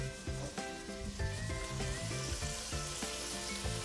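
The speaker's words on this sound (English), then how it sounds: "We cook our onions and garlic together" Onions and garlic sizzle steadily in a pan, seasoned with salt and black pepper, under prominent background music with a rhythmic melody.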